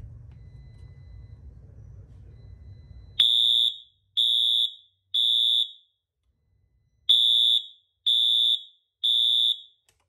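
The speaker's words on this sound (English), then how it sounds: "this is the code 3 horn of the Wheelock MT. We're gonna plug it in and see how it sounds like" Wheelock MT-24MCW fire alarm horn sounding its code 3 temporal pattern: two sets of three loud, piercing blasts separated by a pause, clear and close, after a low background hum.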